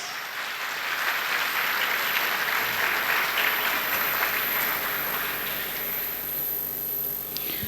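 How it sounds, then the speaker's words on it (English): An audience claps steadily for a trophy winner at the TCS TechBytes 2023 state finals, a dense, even wash of applause that holds at the same level from start to finish with no voice over it. "Come on, guys, he deserves a better applause"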